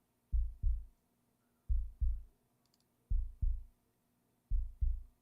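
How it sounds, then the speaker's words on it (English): A synthesized heartbeat from a Microfreak synth with no effects, used in a music track, thumps in four evenly spaced double beats, deep and clean over near silence. "No, sorry, that's the heartbeat."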